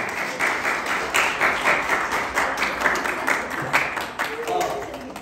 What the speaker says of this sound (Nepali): जोरदार ताली गर्दैछौँ